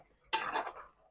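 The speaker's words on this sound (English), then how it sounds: "I'm stirring it now" Ginger and brown sugar stirred in a pot: one short, close scraping swirl of a spoon against the pot bottom that starts abruptly, then fades, with no talking.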